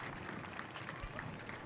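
A crowd claps in a dense, steady patter at an SSB raising day parade, the applause fairly distant and muffled, lasting the whole moment.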